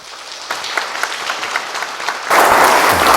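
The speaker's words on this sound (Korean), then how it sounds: "우리 환영의 박수로 맞이하도록 하겠습니다." A lecture audience claps to welcome a guest speaker. Scattered clapping starts after a brief pause, holds steady, then swells into louder, fuller applause near the end.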